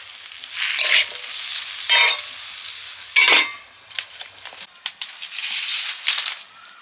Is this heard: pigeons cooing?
no